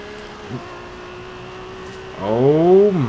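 1995 Toyota Supra RZ accelerating hard in a straight line in Forza Horizon 2, a steady engine drone that swells into a loud rising whine of climbing revs near the end.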